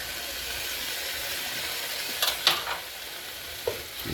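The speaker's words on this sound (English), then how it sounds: "Give this a stir." Beef stew with potatoes, meat and garlic simmers in a pot with a soft steady hiss, broken by a few brief spoon scrapes and clinks as it is stirred.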